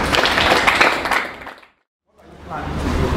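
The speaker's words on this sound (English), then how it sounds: "Please give yourselves a round of applause." Audience applause at a Genius Bee 2022 bootcamp lecture on circular economy: a dense wash of many hands clapping, loud at first and fading out to a brief silence, then rising again as more clapping returns.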